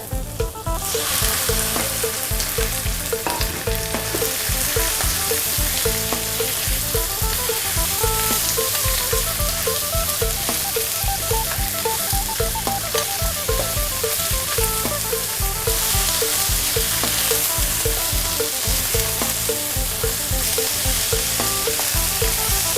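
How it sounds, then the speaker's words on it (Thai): Loud, continuous sizzling and crackling of frog meat stir-frying in a hot pan with chili and garlic, with occasional scraping and clinks of a utensil throughout. "ต่อไปเราก็จะใส่เนื้อกบลงไปเลยค่ะ"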